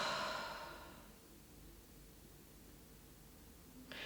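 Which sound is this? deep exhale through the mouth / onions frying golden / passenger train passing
deep exhale through the mouth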